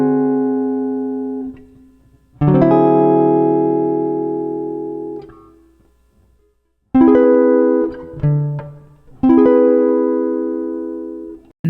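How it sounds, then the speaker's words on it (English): Jazz Lydian dominant chord voicings, voiced with the 9, 13 and sharp 11, played as rich sustained chords: a long ringing chord, then a short stab and two more sustained chords, each struck loud and fading, with no talking. "Here are a couple more great voicings for this style of dominant chord."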